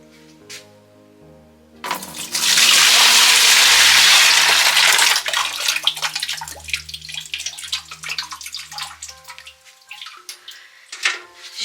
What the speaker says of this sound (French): avec cette eau, je vais pouvoir laver mon tour, les ustensiles et tout le reste